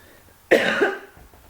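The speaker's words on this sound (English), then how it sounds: "I want to cough." A single sharp cough, close and loud, against near silence.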